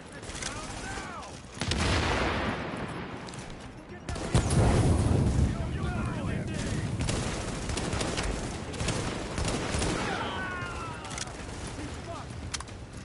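Rapid, loud gunfire bursts and booms in the video game Tom Clancy's The Division, dense and continuous across a rooftop fight, with players talking over it.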